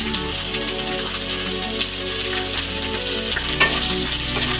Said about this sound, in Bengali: এবার আমি এগুলোকে ভালো করে ভেজে নেব